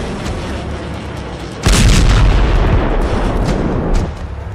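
A heavy, loud boom erupts after a quieter rumbling stretch, then sustained roaring blasts roll on for a few seconds, fitting Iranian ballistic missile strikes on military sites in southern and central Israel.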